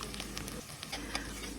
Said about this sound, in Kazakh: Содан кейін күрішті салып, жақсылап барлығын майда қуырамыз.